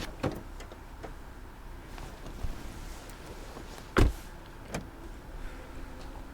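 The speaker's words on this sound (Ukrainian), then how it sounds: "дістає ключі і відкриває свій автомобіль" A car being unlocked and its door opened, heard as scattered clicks and a sharp mechanical clunk about two-thirds through, with a couple of lighter knocks after it against quiet background.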